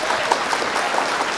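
Applause at a mushaira (poetry gathering) welcoming the chairman, steady dense clapping from a large seated audience lasting throughout, fairly loud and close.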